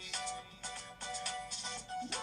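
Phone ringing in short repeated electronic bursts, a clear tonal ringtone pattern pulsing about every half second, moderately faint and alone.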